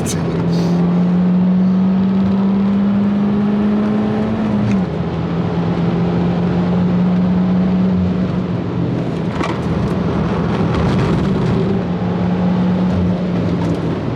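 A Peugeot 208 GTI laps Donington Park circuit from inside the cabin, its engine droning loud and steady, dropping pitch at a gear change, then holding a sustained tone with road and wind noise.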